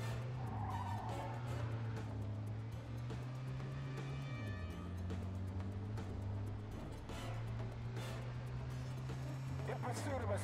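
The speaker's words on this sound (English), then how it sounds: "In pursuit of a speeding vehicle." A speeding car in a police chase in Mafia II, its engine droning loudly and steadily with shifting pitch, tires skidding and squealing intermittently over the roar.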